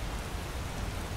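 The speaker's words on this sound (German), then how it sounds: "So, es regnet wieder." Steady rain in the video game Skyrim, a continuous dense patter of falling drops heard alone at even volume with no voices.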